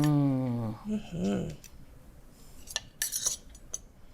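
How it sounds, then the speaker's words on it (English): A metal serving fork and spoon tap and clink against a plate of European sausages, a brief cluster of light, bright metallic chinks near the end, following a voice heard at the start. "So I'm gonna use just a serving fork here"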